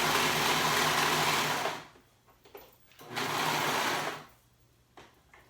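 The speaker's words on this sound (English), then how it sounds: "Now I'm going to sew those shoulders together, and then I'll do my sides together." A sewing machine stitches the shoulder seams of a knit fabric tank top in two close, steady whirring runs, separated by a brief pause with faint handling clicks.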